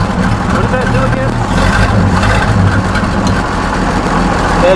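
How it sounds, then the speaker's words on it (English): Antique car engine idles roughly with its exhaust cutout open, a steady loud, low rumbling throb close by, with voices talking over it. "That is the exhaust cutout."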